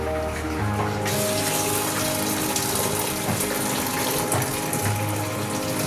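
Water is poured out of a cooking pot while cabbage fry is being prepared, a loud, steady rushing splash that continues for several seconds without a pause.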